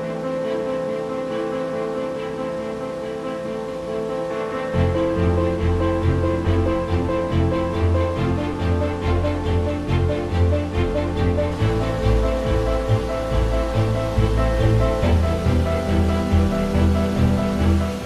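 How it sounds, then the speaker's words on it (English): A waterfall on Sao Miguel in the Azores roars as a steady, dense rush of falling water, broad and constant throughout and growing fuller partway through, with no voices. "it's a very cool waterfall, and I have it all to myself"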